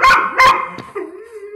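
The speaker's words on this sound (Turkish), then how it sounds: "Bunun için köpeği yanıma çağırıyorum." A German shorthaired pointer barks sharply twice in quick succession close by during retrieve training, followed by a shorter yelp and a brief whine.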